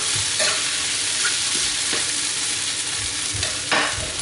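Potatoes fry in a pan with a steady, loud sizzle and faint stirring scrapes now and then, close up and without speech.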